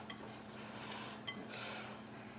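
A whisk clinks and scrapes against a bowl while mixing flour, cinnamon and baking powder, a quiet, steady stirring with a couple of brighter metallic taps.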